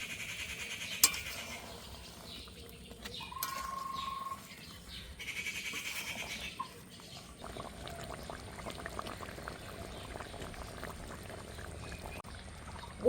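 Jhinge vegetable curry with lentil fritters sizzling and bubbling in a pan, a steady simmer with brief pours and clinks of utensils against the pan, close and moderately loud with no talk.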